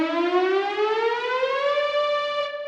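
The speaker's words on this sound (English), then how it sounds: "pretty extreme, you can get this kind of a siren effect." A bright synthesized tone glides steadily upward in pitch like a siren, loud and sustained, then cuts off abruptly near the end.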